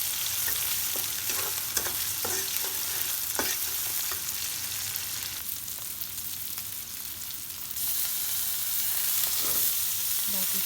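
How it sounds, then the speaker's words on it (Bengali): Shrimp frying in a pan sizzle loudly and continuously up close, with occasional stirring scrapes and clacks against the pan and a slight surge in intensity near the end. "এখন চিংড়িটা বসাই দিচ্ছি আর চিংড়ি মাছ দিয়ে ভাজিটা একটু করে নেব"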